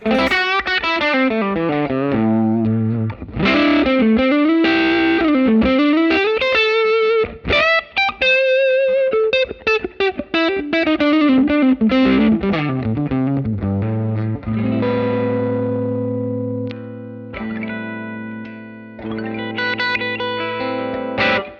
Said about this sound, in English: What I have here is like a reverb tone. This is what this sounds like.